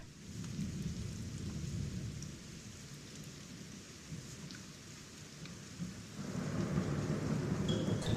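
A rain and thunder ambience track plays: steady rainfall hisses throughout, with low thunder rumbling beneath it that swells louder near the end.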